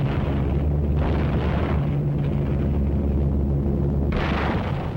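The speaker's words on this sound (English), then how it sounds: "From the air, RAF bombers opened an attack on the Jap positions in the Nagyaduk Pass." A deep, sustained roar and rumble of explosions as RAF bombers attack Japanese positions in a mountain pass in Burma, thick and continuous with heavier bursts swelling and easing, and no voices.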